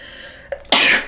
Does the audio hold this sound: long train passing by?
no